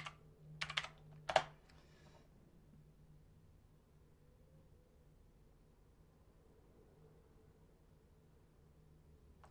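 Typing bursts on a computer keyboard at a Windows setup, a quick cluster of close key clicks in the first two seconds followed by a quiet room hum with no talking.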